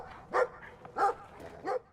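A dog barking in the video game Brothers: A Tale of Two Sons, three short, loud barks spaced evenly apart about two-thirds of a second each, close and clear against a quiet background.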